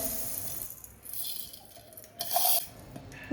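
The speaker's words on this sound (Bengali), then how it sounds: "এখন আমি এখানে কড়াই বসিয়ে চিনি দেবো" A metal wok is set down and sugar is added while making tutti frutti from papaya in a home kitchen, giving soft scraping rustles and then a brief bright clatter.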